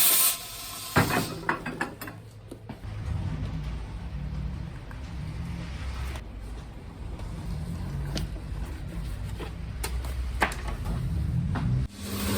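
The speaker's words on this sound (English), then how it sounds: "we're just going to put it on the press as well" A shoe sole press clamps down on a Ted Baker shoe being resoled with a Dainite sole, giving a sharp mechanical clack, then a low steady grinding rumble of pressure with scattered creaks and knocks, ending in another clunk.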